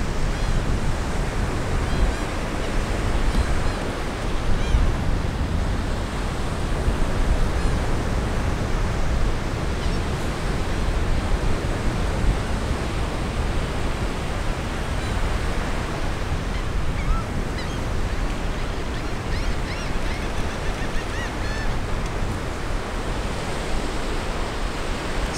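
Surf rolls onto the beach at Fort DeSoto, Florida as a steady, broad wash of noise, continuous and fairly loud, with no voices.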